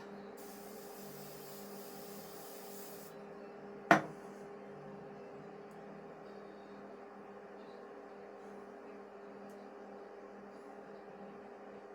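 A short hiss of aerosol hairspray bursts once onto a hairstyle amid a quiet room with a low steady hum, otherwise mostly still.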